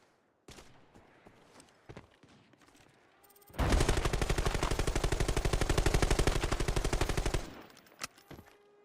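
An unsuppressed SVTU rifle in Fortnite fires a rapid, sustained burst of about four seconds, loud and close, after a few scattered single shots and softer clicks and footsteps.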